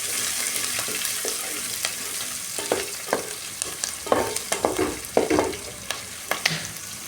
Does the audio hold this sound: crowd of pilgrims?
no